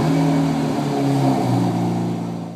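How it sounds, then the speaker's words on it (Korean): A 2012 BMW 1M's inline-six engine idles with a smooth, low, modest exhaust hum that holds steady, then slowly softens toward the end; no talking. "시동을 걸면은 인라인 6에 크지 않은 배기음이 들려오지만 나름대로 매력적입니다."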